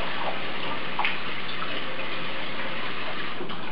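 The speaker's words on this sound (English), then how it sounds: "first thing I like to do is wash the vegetables" Tap water runs steadily while vegetables are washed in a kitchen, a continuous close hiss and gush with a few faint clicks and no talking.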